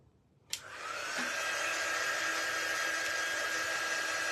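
A hair dryer is drying glue on handmade earrings. It switches on after a brief silence and then blows with a steady, even whoosh at close range until the end.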